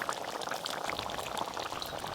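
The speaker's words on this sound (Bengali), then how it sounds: "এবার ঝোলের মধ্যে মাছগুলো দেওয়ার পর একটু ভালো করে ফুটিয়ে নিলেই রান্না হয়ে যাবে" Fried fish goes into a boiling fish curry, giving a continuous close bubbling and liquid churning with no pause or voices.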